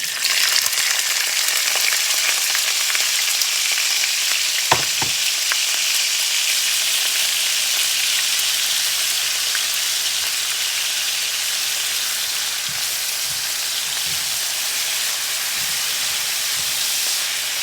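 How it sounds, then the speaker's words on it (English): Onion and garlic frying in a pan: loud, continuous hissing sizzle that starts strong and settles slightly, with a few clanks of a utensil against the pan, no talking. "I'm going to put the onion and the garlic in."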